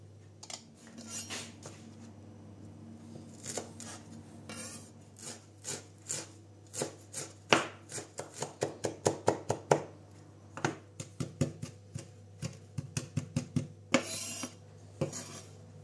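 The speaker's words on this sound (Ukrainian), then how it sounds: "В окремій ємності збиваю до однорідності яйця, щоб потім вони краще розійшлися в суміші овочів" Eggs beaten in a separate bowl with a utensil, a steady run of sharp rhythmic clicks and scrapes against the bowl, close and clear, building to quicker strokes, with no talking.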